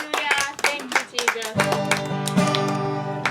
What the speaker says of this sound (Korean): 자, 우리 박수 치고 시작하겠습니다.